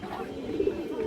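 A red female pigeon gives a soft, brief coo, a low murmur over faint background rustle with no talk.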